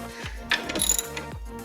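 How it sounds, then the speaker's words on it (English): Ratchet clicking as it loosens the strut bar bolts on a BMW F8X with an S55 engine, a few short bursts of close, sharp ratcheting with brief pauses between them. "Loosen all the bolts on the strut bar, both sides."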